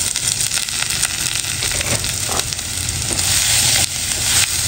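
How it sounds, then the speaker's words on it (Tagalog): Pork sautés with garlic and onion in a hot pan, a loud continuous sizzle close up, with stirring scrapes and crackles throughout and no talking. "Igisa natin yung bawang at sibuyas. Tapos balik na natin yung pork natin."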